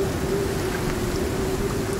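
Rain falling in the survival video game Icarus: a steady, even hiss of rainfall over a constant low hum, continuous throughout with no voices.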